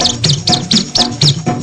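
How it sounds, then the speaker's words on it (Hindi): A bright bird chirp repeats in a quick, even rhythm over a children's song, about six chirps in under two seconds, loud and forward in the mix. "चुन चुन करती आई चिड़िया"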